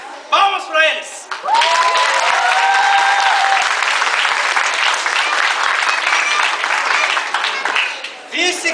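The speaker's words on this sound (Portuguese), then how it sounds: "Palmas pra eles." Audience applause for competitors at a tournament, a loud sustained burst of clapping from a crowd lasting most of the moment, preceded by a short voice and fading near the end, with a few shouts mixed in.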